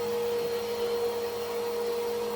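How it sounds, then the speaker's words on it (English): A shop vac runs steadily with a constant motor whine and airy hiss, at moderate volume for a couple of seconds, with no other sound. "shop vac."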